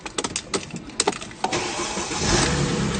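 A 2005 Mercedes-Benz E350 starts up: a rapid series of starter clicks and cranking bursts, then the engine catches with a rising roar and settles into a steady, fairly loud idle close by.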